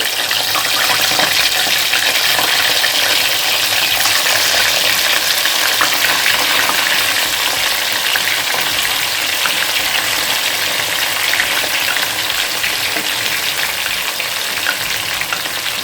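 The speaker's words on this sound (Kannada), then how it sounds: "ಇವಾಗ ನಾನು ಸೆಕೆಂಡ್ ರೌಂಡ್ ಏನೋ ಫ್ರೈ ಮಾಡ್ತಾ ಇದ್ದೀನಿ" Chicken kabab pieces deep-frying in hot oil for a second round hiss with a loud, dense, unbroken sizzle that runs steadily from start to finish, with no voices.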